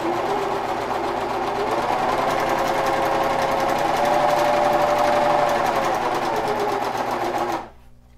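A sewing machine runs steadily as fabric for reusable toilet paper is fed through and turned around the corners, a close, continuous rapid stitching whir lasting several seconds before stopping abruptly.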